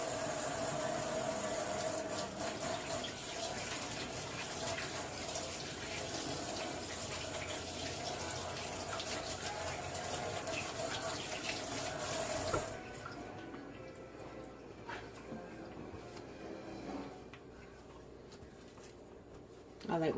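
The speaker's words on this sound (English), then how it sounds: "I'm going to wash my hands real quick" A kitchen tap runs in a steady hiss for about twelve seconds while someone washes their hands, then cuts off, leaving faint handling clatter behind.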